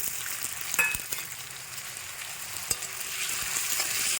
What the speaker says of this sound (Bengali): এবারে দিয়ে দিচ্ছি আদা বাটা দিয়ে ভালো করে একটু কষিয়ে এবারে দিয়ে দিচ্ছি টমেটো কুচি